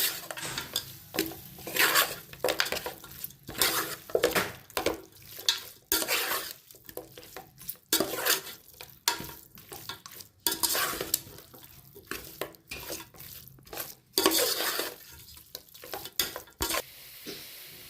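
A spoon scrapes and stirs chicken in a sizzling pan, repeated uneven strokes clattering against metal, close and fairly loud with no talking.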